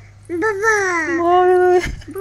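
A small child's high, sing-song voice imitates a dog, drawing out one rising and falling bark-like cry for about a second and a half before breaking off, close and clear against a quiet room.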